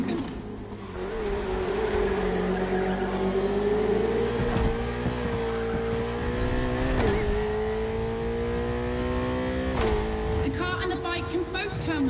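Race cars in The Crew Motorfest video game roar at high revs, engine pitch climbing and dipping through gear shifts and turns, with brief tire squeals, under a voice.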